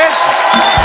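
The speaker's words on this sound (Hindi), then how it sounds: "आप सबकी जोरदार तालियों के बीच रॉक स्टार हार्डी संधू" A dense wash of studio audience applause and cheering on a comedy talk show greets rock star Hardy Sandhu, steady and loud throughout, with a voice briefly audible beneath it.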